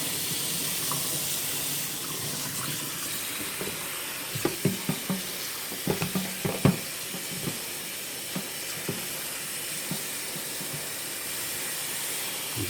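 Ground hamburger meat fries and is stirred in a hot, oily pan for backpacking food, giving a steady sizzle broken by irregular scraping and clacking knocks from the utensil.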